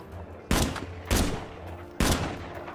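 Gunfire in the shooter game Arena Breakout sounds as three loud, separate bursts, each a sharp blast with a short ringing tail, spread across a few seconds.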